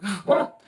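A dog barks twice in quick succession at home, short sharp yaps heard close and fairly loud in a brief moment.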